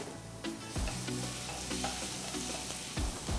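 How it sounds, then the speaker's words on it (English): Chopped garlic sizzles in a tablespoon of oil in a pan, a dense close hiss broken by a few scraping stirs and clinks, steady throughout with no voices. "Take a pan, add 1 tablespoon of oil, 1 teaspoon of chopped garlic."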